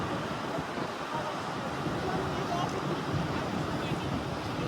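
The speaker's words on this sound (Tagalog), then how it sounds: "Nalakas din ng alon dito." Strong ocean surf pounds against the coral limestone of Aruba's Natural Bridge in a loud, continuous rushing roar, with wind buffeting the microphone throughout.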